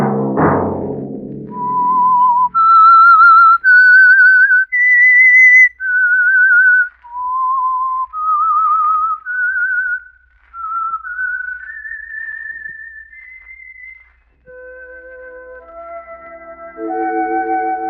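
A lone whistler performs the signal tune of The Whistler radio program, a clear, eerie melody of sustained and gliding notes rising and falling, loud and close, followed by soft orchestral tones.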